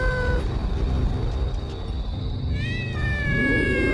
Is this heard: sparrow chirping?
no